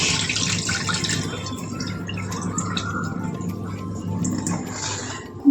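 Water runs steadily from a tap into a sink while rice is washed, a continuous splashing flow with light drips, close by, with no voices.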